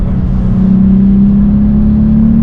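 A VW Up GTI engine holds a steady high rev, droning continuously and loud from close by with a rising whine and no talk.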